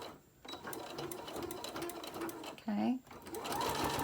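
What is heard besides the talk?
sewing machine straight stitching a fabric lanyard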